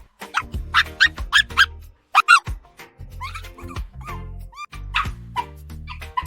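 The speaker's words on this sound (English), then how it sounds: "let's try to prompt in a cute fluffy puppy barking" A cute fluffy puppy, AI-generated as a sound effect, yips and barks in quick high-pitched bursts with small whimpers between them, close and clear with no other sounds.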